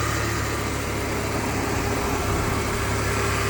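The engine of a 2003 Chevy Trailblazer idles steadily with an open door, a constant even hum mixed with broad fan-like hiss, close and without talk.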